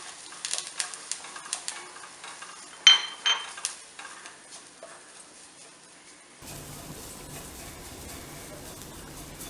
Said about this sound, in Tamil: கடுகு, கருவேப்பிலை, இப்போ நம்ம இதை பொடிச்சு வச்சுருக்கிறதுன்னு போட்டு லைட்டாக வதக்கிக்கலாம்.